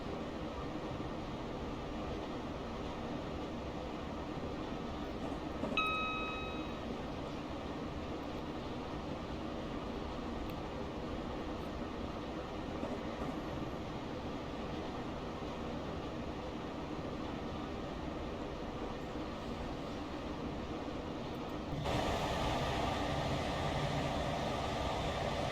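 Class 321 electric train running in Train Simulator Classic on the London Euston to Milton Keynes line, a steady low rumble and hum throughout, with a brief tone near the start and a louder, brighter section near the end.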